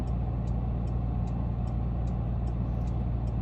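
Low, steady hum of a 2021 Porsche Cayenne Turbo S E-Hybrid plug-in hybrid engine idling, a constant near rumble with faint regular ticking above it.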